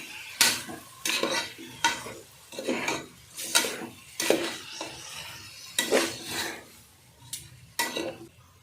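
Chicken pieces are stirred into masala in a pressure cooker: repeated scraping, clanking strokes of a metal spoon against the pot come in a steady rhythm over a soft sizzle.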